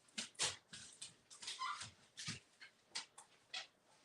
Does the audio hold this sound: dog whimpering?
yes